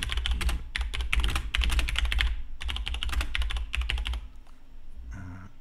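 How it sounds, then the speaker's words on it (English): Typing on an Atari ST computer keyboard, rapid bursts of clicking keystrokes in quick runs separated by short pauses, close and clear with no talking. "I can type something, and whatever I type, it will actually set"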